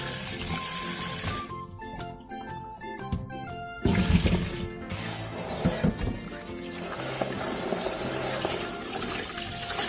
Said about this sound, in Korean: 절여진 오이는 물에 헹군 뒤 물기를 쏙 빼주세요.